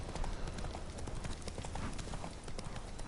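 Continuous clip-clop of Roach's hooves from The Witcher 3: Wild Hunt, a brisk, dense run of hoofbeats close up over a loud, steady game soundscape with no talk.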